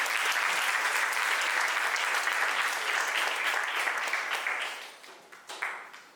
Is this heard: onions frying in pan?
no